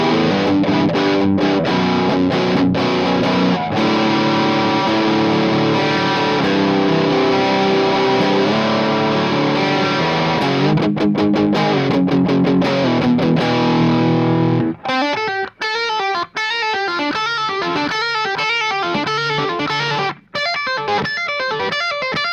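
An electric guitar played through a Mooer Black Secret distortion pedal, gain around 10 to 11 o'clock and filter near 3 o'clock, rings out loud, thick, sustained distorted chords, then shifts to choppier, rhythmic muted riffing with brief gaps.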